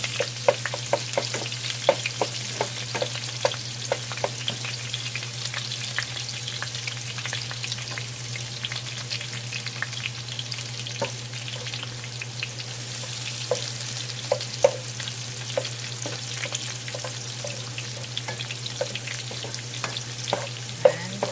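Upo (bottle gourd) sizzles steadily in a hot pan while a spoon scrapes and stirs it in scattered clicks, a constant close frying hiss under a low steady hum, with no voices.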